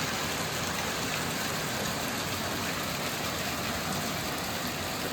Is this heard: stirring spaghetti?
no